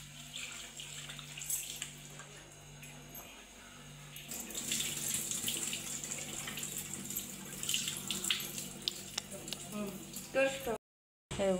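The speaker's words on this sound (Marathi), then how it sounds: "चिरडून झाली नंतर मग धुवायची पाण्याने." Crushed bitter gourd rinsed under running tap water in a home kitchen, a continuous splashing water flow that grows louder partway through, with someone talking over it.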